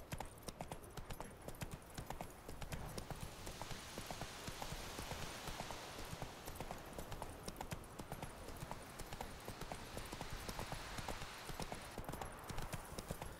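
Horse hooves in The Witcher 3: Wild Hunt clip-clop in a steady, brisk rhythm throughout, close and clear, as the horse moves along at a trot.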